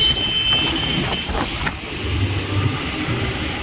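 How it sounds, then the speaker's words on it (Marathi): Traffic rushes past close by on a bridge over a creek, engines whooshing and rumbling as vehicles speed along, with a steady hum of passing cars throughout. "गाड्या सुसाट चालल्या एकदम"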